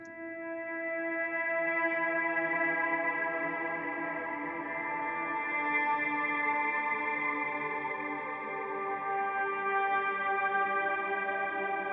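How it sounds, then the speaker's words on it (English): Sustained layered tones drenched in heavy reverb, forming a smooth, washy drone that hangs evenly without breaks. "So I'm going to click this in a second. You'll hear it even more reverb."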